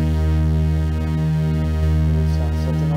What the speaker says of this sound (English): So if we were just to take these two voices and make them go through the Steiner-Parker filter